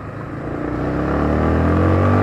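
A Yamaha Sniper 155R motorcycle engine drones steadily while riding, its pitch rising slightly as it accelerates, with wind noise in the background.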